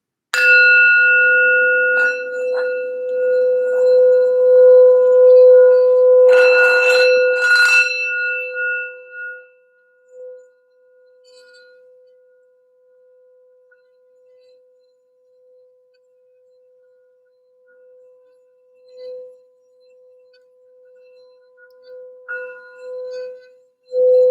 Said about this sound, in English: let's do a quick sound bell here for some general grounding for the reading and healing